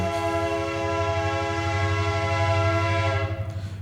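A train horn blows a long, loud, steady chord as the train passes outside, holding for several seconds before cutting off abruptly, with a low rumble of the train underneath.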